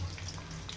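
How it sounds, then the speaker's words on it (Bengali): Chopped onion and green chilies fry in hot oil, giving a soft, steady sizzle with faint crackles, quiet and alone with no talking. "ভালো করে ভেজে নেব"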